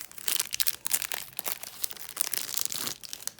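Crinkly plastic packaging from a nail supply order being opened, a dense run of sharp crackling and rustling crunches that stays close and busy throughout, with no talking.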